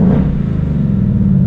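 A 2018 Ford Mustang GT V8 with manual transmission, in track mode, idles steadily and loudly close by, with a deep, rumbling, throaty low burble.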